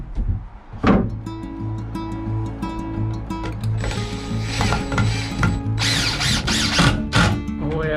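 A power drill fitted with a long drill bit whines at a steady motor pitch, then bites in with rougher, louder grinding bursts while building a wooden camper in the bed of a Ram 1500 truck.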